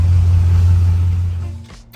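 A 2002 Chevrolet Silverado 2500HD idles steadily after a tune-up, its low, even engine hum holding close and smooth before easing off and fading toward the end.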